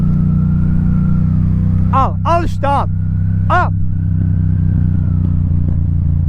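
A Yamaha MT-07 motorcycle engine drones steadily up close on a road in traffic, with someone talking loudly over it through most of the stretch.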